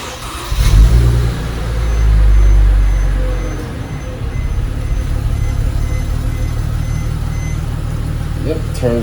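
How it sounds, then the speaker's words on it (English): A Mercedes W204 engine cranks and catches with a loud low surge, then settles into a steady, close idle rumble that continues to the end. "I'm gonna go ahead and start the car up and just make sure everything turns back on"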